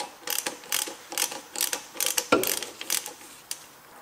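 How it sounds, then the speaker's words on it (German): Rapid metallic ratchet clicks in short bursts as a ratchet on an extension loosens the torque converter drain screw of a Mercedes 7G-Tronic Plus transmission, close and alone with brief pauses between strokes. "einmal die Wandler Ablassschraube lösen. Zack, brauchen wir ein bisschen eine Verlängerung"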